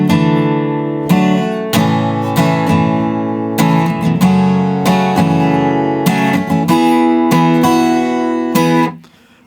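An acoustic guitar plays the bridge of a song, strummed chords changing in an even rhythm, loud and close, with the last chord cut off near the end.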